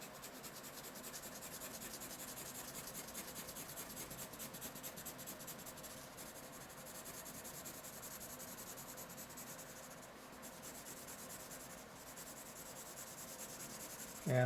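Colored pencil scratching and rubbing across paper in a continuous, quiet, close-up stroke texture that runs unbroken for several seconds.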